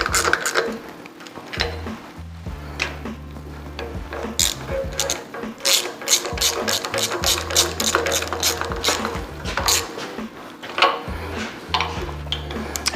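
A small hand ratchet clicks in quick bursts while snugging bolts on a 40 HP VW engine, its rapid pawl ticking close and loud over a low mechanical hum with a brief pause between runs.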